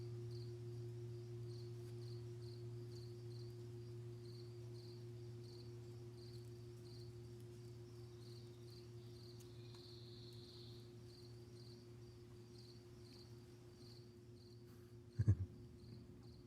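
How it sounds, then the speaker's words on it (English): Steady chorus of crickets chirping continuously at a moderate, even level with a constant low hum beneath, ending in a single brief thump near the close. "Somebody said they want the crickets to be louder."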